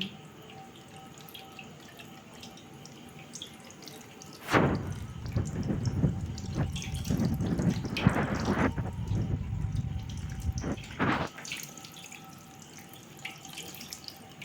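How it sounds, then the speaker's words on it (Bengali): Water pouring and splashing as fruit is washed for a Janmashtami offering, a steady tap-like stream rising to a louder, fuller gush mid-clip before easing back, with faint dripping at the edges. "এই যে এবার ফল ধোয়া হচ্ছে আর গোপালের মাথায় জলটা পড়বে"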